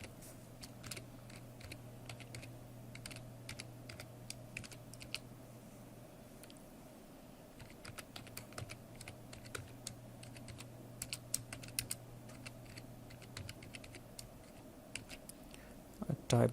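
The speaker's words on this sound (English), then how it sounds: "open this file and type the command, write the program" Computer keyboard typing while entering commands and a program in Ubuntu Linux, quiet irregular key clicks running throughout over a low steady hum, with no talk.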